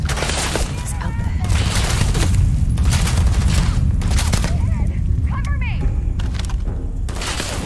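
Rapid gunfire from a gun in the video game Starfield fills the whole stretch as a dense, loud barrage of booms and cracks, with short bursts of voice over it.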